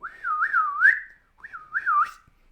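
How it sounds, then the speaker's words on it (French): A person whistles a signal to a horse, two rising and falling melodic phrases, close and clear, with a short pause between them. "il y a quelqu'un qui siffle, c'est bien sûr Lucky Luke"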